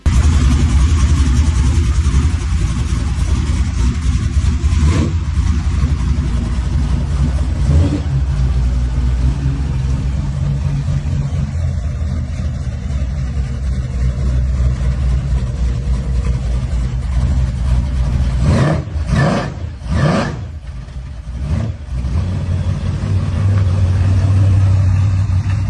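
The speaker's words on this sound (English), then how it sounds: "This 73 Roadrunner comes powered by a built Mopar Big Block 440 engine." A 1973 Plymouth Roadrunner with a built Mopar Big Block 440 V8 runs loud and close, a deep idling rumble broken by a few sharp revs that rise and fall before settling back to idle.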